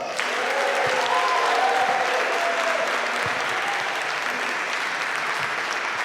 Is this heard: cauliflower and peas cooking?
no